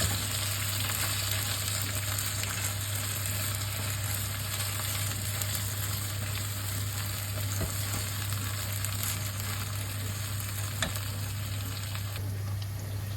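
Rice is stirred into a dolma filling in a hot pan, giving a continuous dense frying hiss with faint scraping throughout, close by and steady, without talk.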